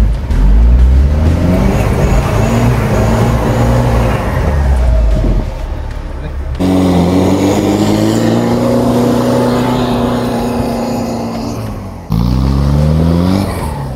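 A modified Mahindra MM540 jeep ploughs through slush, its engine roaring loud and close with rising and falling revs, briefly easing off before surging again.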